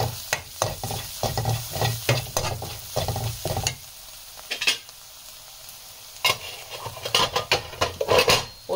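Red chilli and turmeric powder being cooked into a Punjabi dhaba-style dal masala, with a spoon scraping and stirring against the pan in bursts over a steady sizzle, pausing briefly midway before more clattering stirs.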